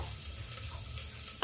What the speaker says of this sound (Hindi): अभी प्याज थोड़ा सा भून जाए, फिर हम मसाला देखिए 1/2 स्पून के करीब मैं सौंफ डाल रही हूँ।